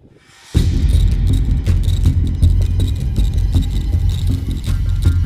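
Motorcycle engine starting abruptly from near silence into a loud, close, low rumbling idle that throbs steadily without a break.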